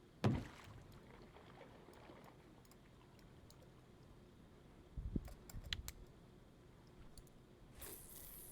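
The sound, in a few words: object thunking against metal boat hull in Russian Fishing 4 video game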